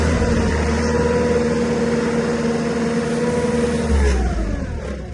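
A Toyota forklift's petrol engine runs steadily at close range, a loud even drone with a faint rise in revs near the end. No one speaks.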